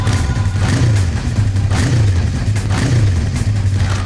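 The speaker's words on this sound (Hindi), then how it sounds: "हम तुम्हें कुछ बाइक्स की आवाजें सुनाएंगे।" A recorded motorbike engine revs repeatedly, its throttle rising and falling in a steady rhythmic throb, loud and continuous with a gritty mechanical rasp, playing back through a speaker with no talk over it.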